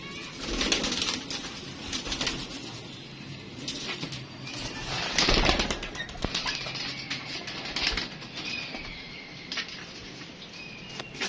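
Pigeons coo softly while wings flap in short bursts nearby, a loud flutter standing out midway among the low repeated calls and faint rustling.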